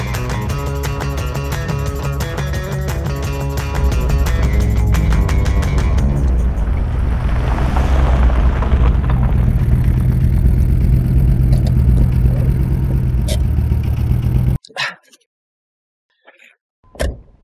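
The 8.0-litre V10 of a Dodge Viper RT/10 runs loudly and close, rising from a steady idle into a stronger roar before cutting off abruptly, followed by a couple of faint knocks.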